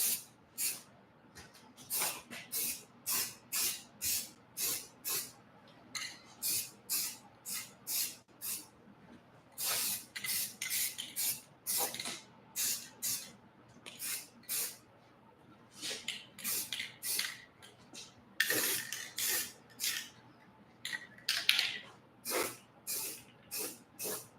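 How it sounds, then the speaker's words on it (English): An aerosol spray can, held upside down, sprays a shop gutter area in many short, sharp hissing bursts, close and clear, with brief pauses between each spurt. "these do let you spray upside down"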